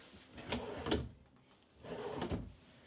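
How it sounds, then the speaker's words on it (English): Two soft drawer closes in a 2026 Forest River Sandpiper RV bunkroom, about two seconds apart, each a gentle sliding rush ending in a muted thud, close by with quiet room tone between. "Soft close drawers as well, so you don't have to slam them."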